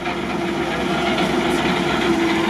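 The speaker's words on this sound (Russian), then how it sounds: "Это помпа работает" Water pump of an amphibious military off-road vehicle running, a steady continuous mechanical hum with a faint tonal whine, close and constant throughout, no talk over it.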